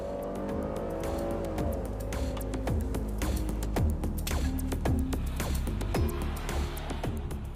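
A Buick Enclave SUV with a 9-speed transmission accelerates hard, its engine note rising and dropping through repeated gear changes as the revs sweep, loud and continuous from inside the cabin.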